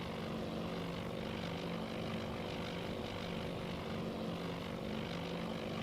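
A flight of World War II propeller aircraft approaching at Midway in a naval strategy game, a steady droning engine hum that holds constant without voices.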